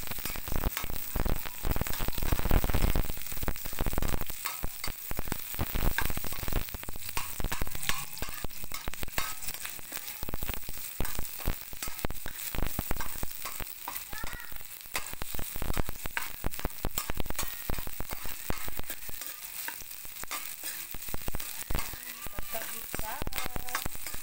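Onion and garlic sauté in a hot pan for corned beef with cabbage, a loud, steady oily sizzle with frequent scraping and clattering stirs throughout, close and continuous.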